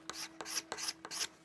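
A card scraper mounted in a plywood holder scrapes across wood in four quick, even rasping strokes, close and fairly quiet, with no talking.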